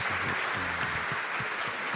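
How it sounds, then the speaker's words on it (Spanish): An audience at a catechists' talk in the Archdiocese of Santiago applauds the speaker, a dense, even roar of many hands clapping, heard from a distance with no speech. "Un aplauso"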